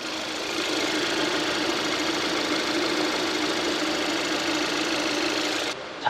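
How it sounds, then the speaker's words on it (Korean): A Kia Soul gasoline engine idles close by with the engine bay open, a steady, even hum and light ticking clatter, continuous throughout before cutting off abruptly near the end. "엔진룸 열어놨고요 엔진 소리 바로 들려드릴게요"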